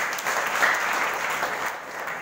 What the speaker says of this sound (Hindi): ताली तो बजाओ अपने लिए